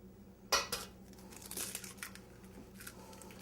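Eggs cracked one after another into a bowl of sweet potato pancake batter, a sharp crisp crack followed by softer crinkly clicks and small wet taps, close up with no talking.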